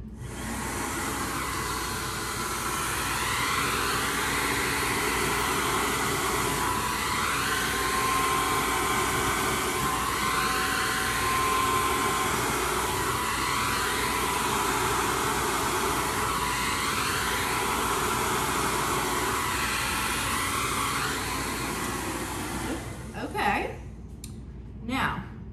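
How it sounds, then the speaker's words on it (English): A hair dryer blows over a freshly poured acrylic paint pour, a loud, continuous rushing whoosh held close for about twenty seconds before it switches off, followed by some handling clicks. "Needs a little, so let me get my smaller dryer now."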